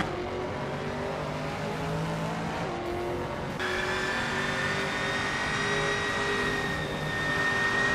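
Racing cars in a video game launch off the line at Imola, including a vintage Panoz Esperante GT4, their engines revving and whining up in pitch together, loud and continuous, with a sharp gear change partway through.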